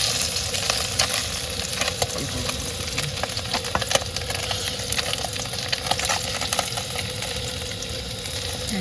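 Bhetki fish from the Sundarbans frying in hot oil, a steady, dense sizzle with crackling pops that runs without a break and stays loud throughout, with no voices over it.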